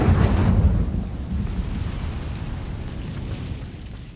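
A fire spell cast in the Hogwarts Legacy video game bursts with a loud, rumbling whoosh that swells at the start and then settles into a steady roaring crackle, with no talking.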